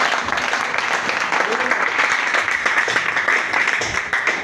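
A church congregation breaks into sustained applause during a sermon, a dense, loud wash of clapping that fills the room, with some voices mixed in.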